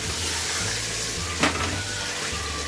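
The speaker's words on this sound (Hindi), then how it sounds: "अब गोश्त को मैं इसमें लहसुन और अदरक में अच्छी तरह भून लूंगी।" Mutton pieces frying in browned garlic and ginger in a pan for a spinach meat curry, a steady loud sizzle with a brief stirring scrape partway through, close up with no talking.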